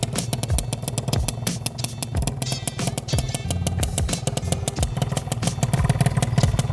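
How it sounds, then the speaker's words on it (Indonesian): A Yamaha Alfa II R two-stroke motorcycle idles steadily with a crisp, raspy exhaust crackle, close by and fairly loud, with no talking. "Karena dia belum pakai knalpot kolong teman-teman, jadi suaranya gini. Garing,"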